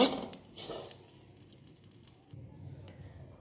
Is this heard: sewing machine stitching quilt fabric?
no